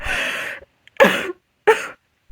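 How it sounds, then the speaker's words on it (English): Three harsh coughs in a row, close and loud, separated by short silent pauses. "So, naturally, I had a coughing fit on camera."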